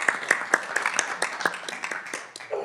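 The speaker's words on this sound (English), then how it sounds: "can we do another brief round of applause" Small group applauding at a school board meeting, a brief thin round of scattered hand claps that tapers off after a couple of seconds.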